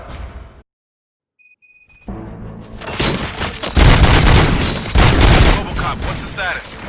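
Gunfire in the video game Robocop Rogue City erupts after a brief silence, with dense, loud bursts and booms that roll on continuously over several seconds.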